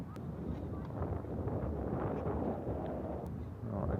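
Gusty outdoor wind buffets the microphone in a constant low roar during a catapult glider launch, loud and unbroken with a brief click near the start.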